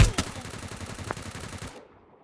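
Rapid automatic gunfire rattles in a mobile shooter video game, a close, loud string of evenly spaced shots that cuts off abruptly partway through.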